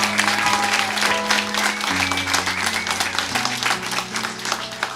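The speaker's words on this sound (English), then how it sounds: "let's give a big round of applause to Mr." An audience at a cabaret show claps for the pianist while piano chords keep ringing underneath, the scattered clapping layered over the sustained, shifting notes throughout.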